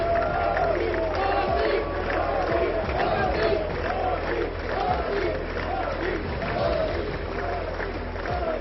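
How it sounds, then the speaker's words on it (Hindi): A large crowd in the US Congress chants "Modi Modi" in a loud, rhythmic, repeated cadence, mixed with cheering and clapping, with a reporter's voice running over it. "संसद में मोदी मोदी के नारे भी खूब गूंजे।"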